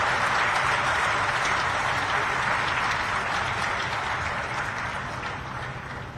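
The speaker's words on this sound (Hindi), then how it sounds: "इन सब बच्चों के लिए जोरदार हम ताली बजा करके इनका" An audience at a Jharkhand government ceremony claps loudly for schoolchildren, a dense sustained round of applause that slowly tapers toward the end.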